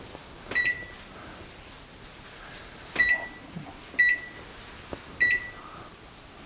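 An oven's control panel beeping while being set to cook chicken cordon bleu: four short, bright electronic beeps at uneven intervals, close by, with only faint room hum between and no talking.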